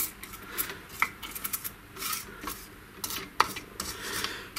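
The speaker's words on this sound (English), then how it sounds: "That's the component leads, just trimming off the excess after." Excess component leads being trimmed from a freshly soldered circuit board, heard as a run of close, sharp little clicks and snips with rubbing and scraping between them, irregular and moderately loud with no talking.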